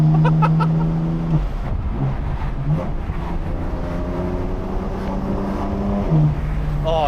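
BMW F82 M4 driving with its exhaust valves open, a loud, close, continuous engine drone with rising and falling revs and strong harmonic tones throughout.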